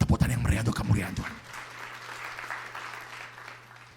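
A church congregation claps loudly at first during a sermon, then the applause thins and fades out, with a low steady hum underneath.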